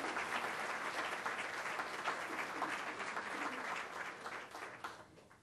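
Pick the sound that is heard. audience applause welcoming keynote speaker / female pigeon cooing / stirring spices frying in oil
audience applause welcoming keynote speaker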